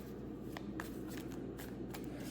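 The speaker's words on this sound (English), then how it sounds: "I had already pre-shuffled off a camera, but I'm going to do it again on screen" Tarot cards are shuffled close by in a series of soft, quick riffling rustles over a faint steady background hum, with no talking.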